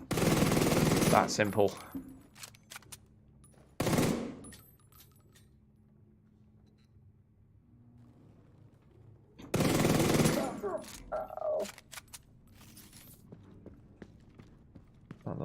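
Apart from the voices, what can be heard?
gunfire in the video game The Division 2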